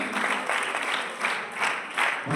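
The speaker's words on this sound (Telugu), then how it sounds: "చప్పట్లు ఉండాలని" Audience applause greets a principal as he is invited onto the stage at a ceremony, a steady rush of clapping hands that swells in several waves and stays loud throughout.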